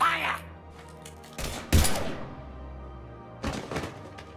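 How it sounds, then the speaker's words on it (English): Mass Effect 3 game audio with a few heavy, echoing weapon blasts and thuds, close and loud, spaced over a few seconds with a lingering low rumble between them and voices mixed in. "Now open fire!"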